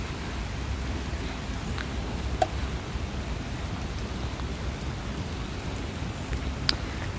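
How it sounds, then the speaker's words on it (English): Rain falls outdoors on a winter day, a soft steady hiss with a few sharp drips and faint clicks, fairly quiet and even throughout with no talking. "and the rain's coming down even more."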